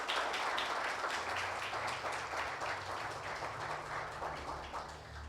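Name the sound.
congregation applauding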